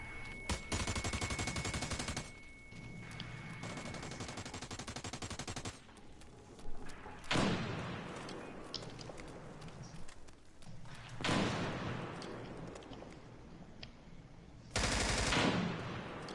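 Rapid bursts of gunfire from the game Ark come in several loud volleys separated by quieter stretches with scattered thumps, the shotgun blasts close and harsh.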